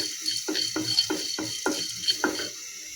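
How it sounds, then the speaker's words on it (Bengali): Whole dry spices stirred in a hot dry wok give about six close rattling, scraping strokes in an uneven rhythm, with a steady faint hiss underneath and no talk. "আমি এর মধ্যে এই শুকনো গোটা মশলাটা ঢেলে দিলাম"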